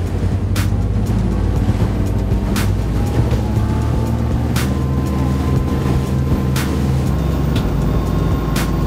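A boat engine roars steadily at sea while accelerating, a loud continuous drone with rushing water and wind, punctuated by occasional sharp slaps or knocks from the hull.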